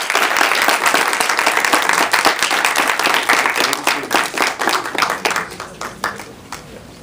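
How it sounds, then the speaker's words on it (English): An audience applauds after a film screening at an indie film festival, loud dense clapping that thins into scattered claps as it fades toward the end. "Let's get a round of applause."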